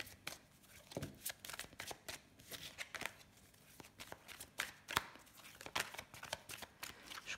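Tarot cards being shuffled by hand, a run of quick papery riffles and slaps with short pauses between bursts, close and fairly quiet with no talking.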